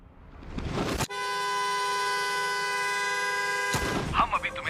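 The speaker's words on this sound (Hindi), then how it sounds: "अगर तुम सब बाहर जाकर अपनी कार का हॉर्न लगातार बजाते हो" A long continuous car horn blast holds steady for nearly three seconds, loud and harmonically rich, between short bursts of crowd noise and voices before and after.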